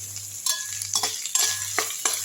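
Onions and curry leaves sizzle and fry in a pan for garlic chutney, stirred in several bursts of spatula scraping over a steady hot-oil crackle, close and moderately loud with no talking.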